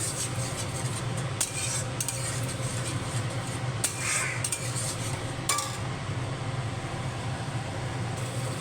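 A spoon scrapes and clinks against a pan while spice paste fries, steady low sizzling under sharp intermittent metal taps, fairly quiet and close, no voices.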